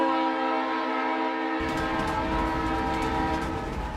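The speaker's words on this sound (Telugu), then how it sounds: "రే రైలు వచ్చిందిరా." A train arrives with a loud, sustained horn blaring close by, joined after a moment by the deep rumble of rolling rail cars beneath it.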